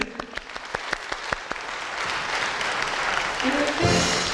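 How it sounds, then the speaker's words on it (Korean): A congregation claps along at a praise and worship seminar, with a rapid run of sharp, evenly spaced handclaps that swells into a dense, sustained wash of applause, with voices rising near the end. "우리 주님께 영광의 박수 시작하겠습니다"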